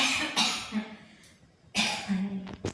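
A person coughs twice, sharp bursts a moment apart, close and fairly loud, each followed by a brief voiced tail, with a faint throat noise near the end in an otherwise quiet indoor setting.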